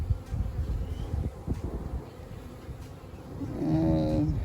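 A dense, steady buzzing of many honeybees close by on a hive frame, with a louder humming swell near the end.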